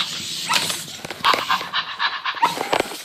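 A Zoomer robot toy dog makes short electronic yips and panting sounds close up, in a quick uneven series of chirpy bursts.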